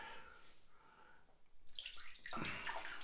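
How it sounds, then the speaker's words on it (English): Water splashed onto a face before a wet shave with a Supply SE razor, a few wet splashes and drips rising near the end of the clip, close and fairly quiet, with no talking. "put some water on the face"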